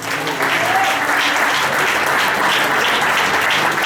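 A church congregation applauds together in steady, loud clapping that fills the whole stretch without a break, with a faint trace of voices underneath.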